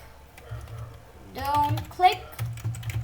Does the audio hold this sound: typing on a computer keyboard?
yes